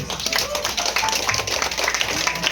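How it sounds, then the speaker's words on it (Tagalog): Small audience applauding for Carla at a birthday gathering, with scattered, uneven hand claps and some sharper individual taps close by, with murmuring voices mixed in. "Wala bang palakpak na Carla?"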